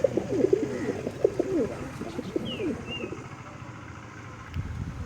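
Giribaz pigeons coo in soft, rolling bursts close by, heard alongside people talking, with a brief higher bird call partway through.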